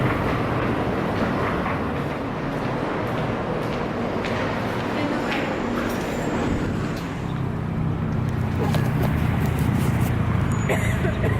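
A Montreal metro train rumbles steadily with rattling clatter and a low drone throughout, voices mixed faintly into the noisy ride.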